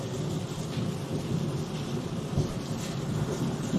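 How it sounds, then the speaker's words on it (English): Steady rain during a thunderstorm on the backside of a mesocyclone, a continuous broadband wash with low rumbling thunder underneath, fairly loud and even throughout with no voices. "Getting a little bit of rain on the backside of this mesocyclone now, folks."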